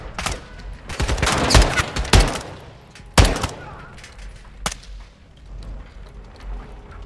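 Sniper rifle shots in Call of Duty: Modern Warfare 2 played on ultra settings, a burst of sharp cracks in the first two seconds, then a loud isolated shot near three seconds and a lighter one later, over low battlefield rumble.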